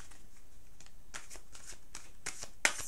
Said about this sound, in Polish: Skup się, proszę, wtedy, gdy ja tasuję.